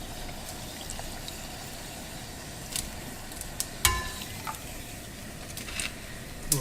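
Flour-dusted chicken skin frying in hot oil, giving a quiet, steady sizzle with a few faint pops and clicks and no talk.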